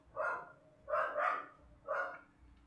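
A dog gives three short, fairly close barks in quick succession, with a brief pause before the last one, over a quiet background.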